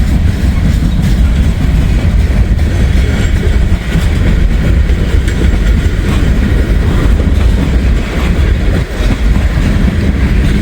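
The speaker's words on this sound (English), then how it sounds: "The train is moving." A Norfolk Southern train rolls past a collapsed building on a cold day: a loud, close, continuous rumble with steady wheel clatter over the rails lasting throughout, with no voices.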